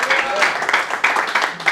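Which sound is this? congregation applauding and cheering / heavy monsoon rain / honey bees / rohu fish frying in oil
congregation applauding and cheering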